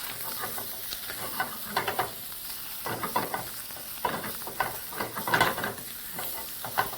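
Vegetables frying in oil in a pan, sizzling steadily with repeated bursts of scraping and tossing at irregular intervals, close up and without speech.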